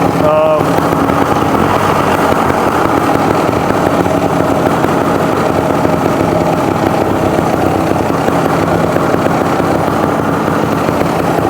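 Vintage Bultaco trials motorcycle engine idling steadily in neutral just after starting, a loud, close, continuous rattling putter with no revving.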